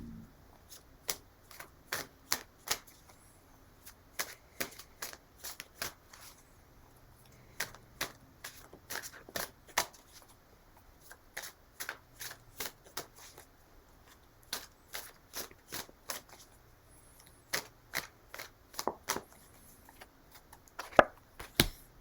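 Tarot cards are shuffled and handled during a reading, giving faint, sharp riffling clicks and snaps in irregular clusters across a quiet room, with no talking.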